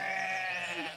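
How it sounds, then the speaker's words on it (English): A sheep bleats in one sustained, wavering cry on a farm, fairly close and loud, with no talking over it. "There you go, little sheep."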